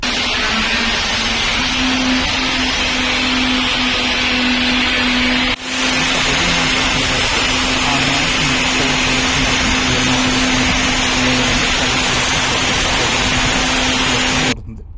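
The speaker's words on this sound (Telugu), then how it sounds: "మేము ఈ మెషిన్ యూజ్ చేసేటప్పుడు చాలా ఎక్కువ నాయిస్ వస్తుంది ఆ నాయిస్ వినిపిస్తాయి ఇప్పుడు" A buffing machine grinding down and leveling a steel ship deck, a loud constant mechanical whine with a steady hum that runs without a break and then cuts off at the end.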